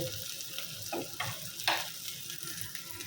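Fish fries in oil with a soft, steady sizzle, joined by a few brief stirring scrapes and clinks close by, heard at a fairly low level.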